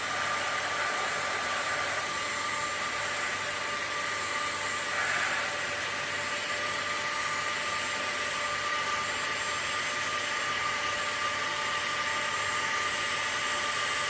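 A heat gun set to 200 on high fan blows steadily on resin for a long, unbroken stretch, producing a loud, constant whooshing roar that changes little from start to finish, with no talking.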